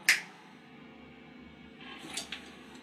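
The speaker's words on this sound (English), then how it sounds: "When I snap my fingers, you will awake and remember everything." A single crisp finger snap, close and distinct, rings out at the very start of a quiet scene in a doll horror film, followed later by faint rustling.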